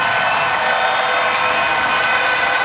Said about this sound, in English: And this crowd is going bananas.